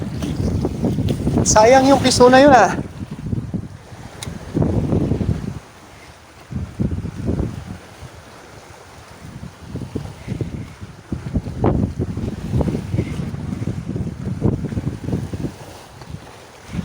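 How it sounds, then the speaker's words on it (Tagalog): Strong wind gusting outdoors beside a boat on open water, a steady rushing buffet against the microphone, with people talking over it now and then. "Lumakas na naman yung hangin."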